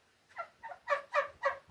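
A chicken gives a quick run of five or six rising, throaty clucks in rapid rhythm, close and loud.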